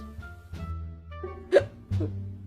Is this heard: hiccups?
yes